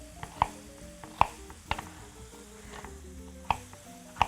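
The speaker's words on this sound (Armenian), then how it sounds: "Մինչ ես կտրատեմ, այս չափաբաժինը կարծում եմ կտապակվի։" Eggplant and pepper fry with spices in a pan, giving a soft steady sizzle broken by several sharp clicks and taps of utensils against the pan, with no voices.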